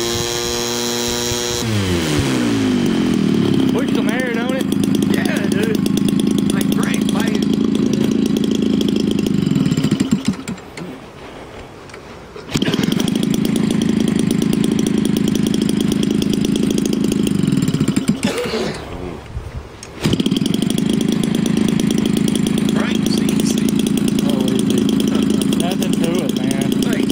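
A Homelite 25cc gas engine on a red and silver RC racer runs loud and close with a buzzing, droning roar. It cuts out twice for a few seconds and restarts, while people talk over it.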